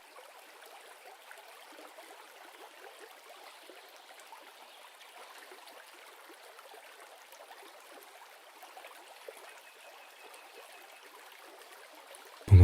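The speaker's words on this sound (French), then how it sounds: "vous décidez de simplement vous laisser bercer par le doux son de l'eau qui serpente entre les pierres et suit son cours" River water flows and trickles between stones in a quiet natural setting. The soft, continuous babble holds fairly even with small gurgles, with a brief bump right at the end.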